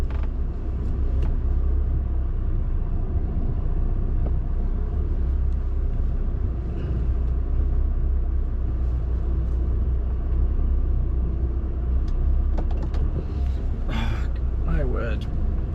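Lorry engine idling and rumbling steadily at close range while the driver makes a blind reverse in a crowded distribution centre yard, a continuous low drone with some mechanical clunks and a brief hiss near the end.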